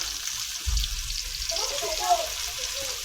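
Chopped onions and the green part of leeks start frying in hot oil, a soft steady sizzle with faint crackles running throughout, fairly quiet and close, with a brief low thump near the start.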